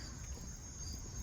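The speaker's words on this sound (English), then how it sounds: "I love the way you can hear the crickets chirping as well." Crickets chirping at night in Kyoto, a faint, continuous high trilling with a soft low background hum and no voices.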